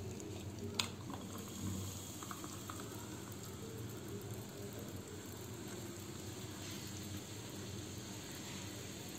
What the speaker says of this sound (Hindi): Then we'll top it up with this soda.